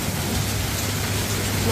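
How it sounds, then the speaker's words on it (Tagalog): Sudden heavy rain in Vigan, Philippines, a dense close wash of hissing downpour on surfaces, loud and continuous with a low rumble underneath. "Bigla pong umulan guys."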